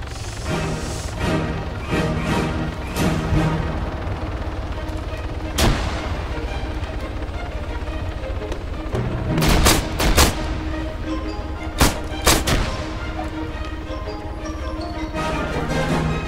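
Zubr revolver hip-fire shots ring out in Arma 3, loud sharp cracks at irregular intervals, with a tight cluster of rapid blasts in the middle and a couple more afterward over a busy battle background.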